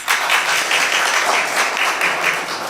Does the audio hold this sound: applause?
yes